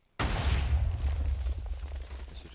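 A Minecraft TNT cannon fires in one sudden loud blast, followed by a deep rumbling decay that lingers for a couple of seconds with no talk.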